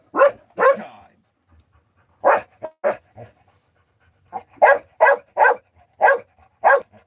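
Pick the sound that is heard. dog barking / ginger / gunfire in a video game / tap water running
dog barking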